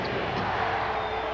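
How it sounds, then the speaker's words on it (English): Basketball stadium crowd at a 1994 Bulls versus Rockets game chanting for defense, a massed roar of voices filling the arena under a commentator's voice, with faint whistle-like tones above. "Chant of defense from the stadium crowd"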